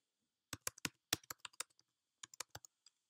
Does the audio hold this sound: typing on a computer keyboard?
yes